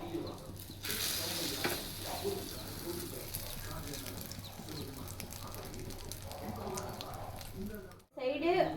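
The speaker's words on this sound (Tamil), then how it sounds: "இங்கே தோசை கல்லில் வந்து எண்ணெய் ஊற்றிட்டு இந்த பிரெட் எடுத்து இந்த மாதிரி 2 பக்கமுமே டிப் பண்ணிவிட்டு" Bread dipped in beaten egg on both sides fries in oil on a hot dosa pan, giving a steady close sizzle and crackle that runs throughout and cuts off briefly near the end.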